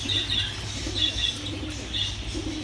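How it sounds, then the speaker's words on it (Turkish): Pigeons in a bird shop, with soft cooing and wing flutters repeating in short bursts against a steady low hum of the room. "Hemen bu taraftan burada da güvercinlerimiz var."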